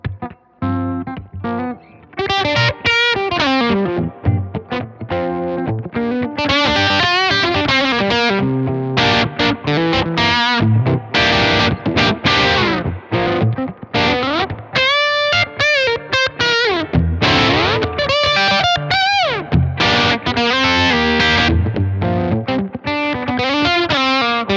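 Electric guitar through a MESA/Boogie Mark V amp on channel 2 in Mark I mode, recorded via a CabClone on its vintage cab sim setting, playing loud, continuous overdriven rhythm chords and sustained solo lines.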